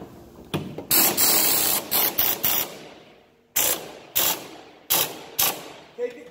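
Impact wrench tightening bolts on a Ford Mustang SN95 front suspension, loud close bursts of rapid hammering: one long run followed by a series of short repeated rattles with pauses between.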